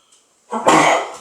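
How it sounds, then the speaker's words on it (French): A single loud sneeze bursts out close by after a brief faint intake of breath. "Je vais éternuer."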